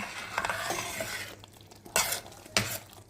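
A spoon stirs semolina halva in a pot after a honey and milk mixture is poured in, giving soft scraping with a faint sizzle and two sharper scrapes near the end, close and quiet.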